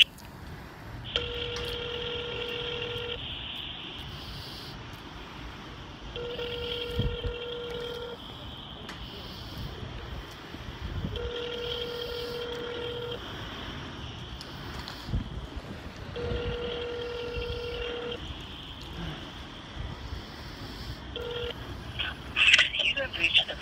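Telephone tones during a call transfer: a repeating pattern of steady beeping ring or dialing tones in four evenly spaced bursts, heard over faint background rustle and wind-like noise, with no voices.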